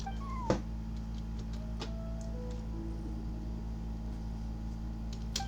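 A cat meows in the video game Genshin Impact, a short clear call near the start over a steady low background hum with faint game tones, no talk.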